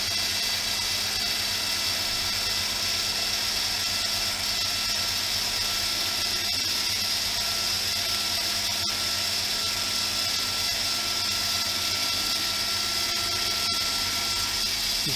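A Monarch 10EE metal lathe runs steadily with a constant mechanical whine and hum, close and fairly loud, with a few faint clicks and no voices.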